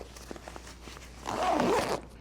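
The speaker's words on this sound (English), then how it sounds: "I can just unzip these waterproof zippers, reach inside, get to all these pockets in here" Waterproof zippers on a HeldClosely 34L messenger bag being unzipped: faint zip clicks then one longer, louder rasping pull, close and alone without talk.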